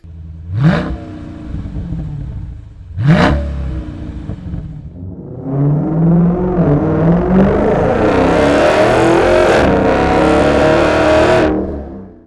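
A Dodge Challenger engine blips twice with sharp revs, then rises into a long, loud rev with a deep, raspy exhaust note through a MagnaFlow straight-through muffler before cutting off.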